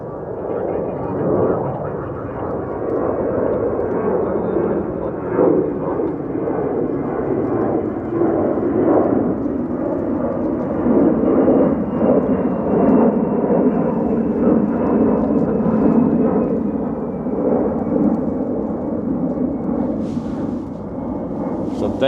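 Envoy airliner taking off from runway 36 right at Dallas/Fort Worth airport, a loud, steady, broadband jet roar that holds for over twenty seconds and slowly fades, with no voices over it.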